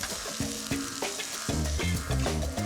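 Garlic and peppers frying in a hot pan make a steady bright sizzle throughout, layered under a tonal musical backing with no speech.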